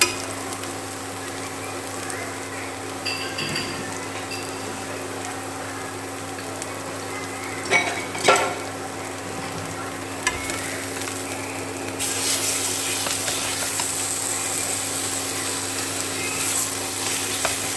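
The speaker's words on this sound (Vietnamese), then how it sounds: "Rồi mình đảo thịt băm." Minced pork being stir-fried in a pan with shallots, a steady low sizzle carrying on throughout, with a few scraping stir clicks and a brighter, louder hiss rising toward the end.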